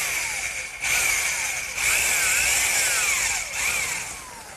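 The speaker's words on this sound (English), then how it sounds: "now to drill the hole, I'm just using a 15/16 inch speed bit" A power drill with a 15/16 inch speed bit whines steadily through a hole in wood, its pitch dipping and rising in a few surges as the bit bites and spins free.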